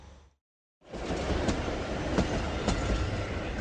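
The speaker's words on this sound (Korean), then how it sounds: "바로 앞 중앙선 철로로 하루에도 수십 차례 기차가 다니면서 진동과 소음이 일어납니다" A train runs along the Jungang Line railway right beside Imcheonggak, a historic house in Andong. It rumbles loudly and steadily after a short silence, with faint rhythmic clacks of the wheels on the track.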